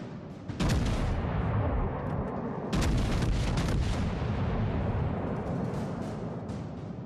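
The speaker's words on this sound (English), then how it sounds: "All stations, concentrate fire on the target." Naval gunfire from the battleship USN Texas in a video game: two heavy, loud booming salvos with sustained rumbling roar and crackling decay filling the space between them, no speech.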